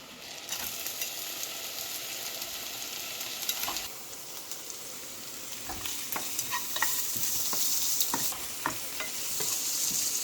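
Onions sizzle in a pan of softening sweet potato for a traditional Pongal lunch, a steady hiss carrying on throughout, broken by frequent scrapes and clinks of a spatula stirring, close and fairly loud, with no voices.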